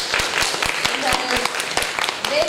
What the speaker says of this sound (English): How about we start with giving them a round of applause?